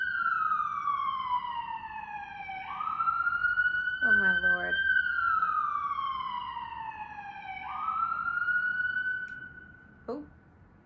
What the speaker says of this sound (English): I don't know if that's an ambulance or a cop car